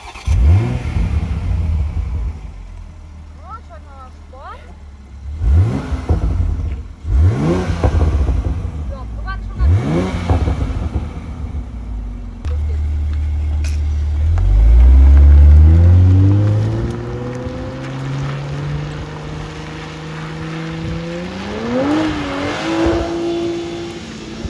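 Toyota GR Supra engine revving hard while driving, several sharp rising and falling revs in quick succession, then a long climbing acceleration, loud and close.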